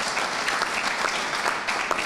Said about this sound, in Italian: Io volevo fare un applauso a queste donne